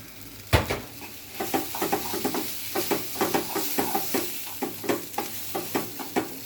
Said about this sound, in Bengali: এটা আমরা সরিষার তেলে এই 2-3 মিনিট একটু নাড়াচাড়া করব